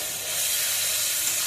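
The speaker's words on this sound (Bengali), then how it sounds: "এই যে মশলা দেওয়া মশলাটা ভাজা ভাজা হচ্ছে" Spices frying in a pan in a village kitchen, a bright continuous sizzle and hiss, close and steady, with no talking.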